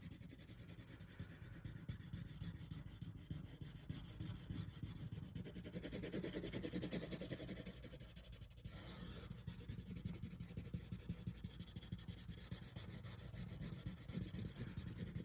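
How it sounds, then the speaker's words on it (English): A crayon is rubbed on its side across paper while coloring. A continuous, faint, close scratchy rubbing goes on without pause, alone with no voices. "Now I like to rub the colors kind of on the side of the crayon"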